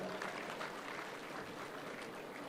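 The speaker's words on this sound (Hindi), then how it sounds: "इस बात के लिए, समय की प्रतिबद्धता के लिए ताली जोरदार बजाएं" A crowd at an outdoor statue unveiling ceremony claps in a continuous, fairly faint wash of applause that holds steady for the whole stretch.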